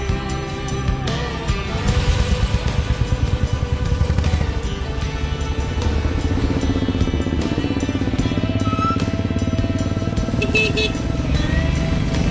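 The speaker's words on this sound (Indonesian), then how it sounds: "Tadi kan kami naik motor becak motor BSA tadi kan." A BSA motorcycle pulling a becak, a motorized pedicab, runs with a loud, steady engine drone throughout, close up, with a few horn toots and no talk.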